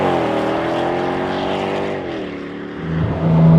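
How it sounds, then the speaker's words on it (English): Mercedes SLK 55 AMG V8 roars loudly up close, its pitch holding then dipping before climbing again in a sharp rev near the end, with no talk. "Small two-seater roadster with a big V8 engine which sounds something like this."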